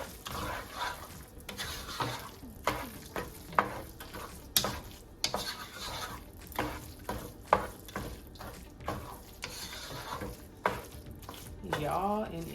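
Burrito filling mixed with two handfuls of cheese in a pan with the heat off, a series of scraping and clattering stirs at an uneven rhythm, close up, with a dog barking and brief voices nearby.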